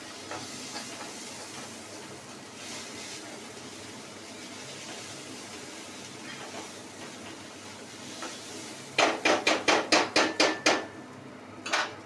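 Gobindobhog rice fries in a pan for khichuri, giving a continuous soft sizzle and hiss that ends in a fast run of about eight sharp, rhythmic scraping knocks from a spoon against the pan, with no speech.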